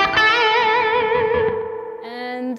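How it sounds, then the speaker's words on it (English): Distorted electric guitar playing a short lead lick from a rock solo: a bent note held with wide vibrato, then a quick pull-off to a lower note, loud and close with reverb. "I would definitely add some nice vibrato on that last note"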